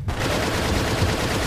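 Sustained automatic gunfire from a weapon with a 120-round magazine in the video game 9mm, a loud continuous rapid burst of shots filling the whole moment with no pause.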